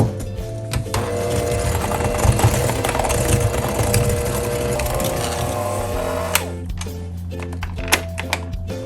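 An electric mixer whirs steadily through thick Lupin flour cookie batter with creamed sugar and oil, a dense close motor drone that runs for most of the stretch before easing into a lighter, choppier hum.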